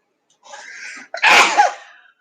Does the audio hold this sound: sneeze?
yes